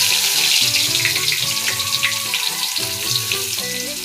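Cumin, fennel seeds and onion sizzle in hot oil, a steady bright frying hiss with faint clinks and stirring knocks close by, no voices.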